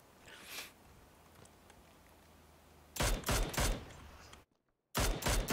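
Rapid bursts of gunfire in the video game PUBG: two loud, close volleys of quick shots separated by a sudden cut to silence, after quieter ambient sound.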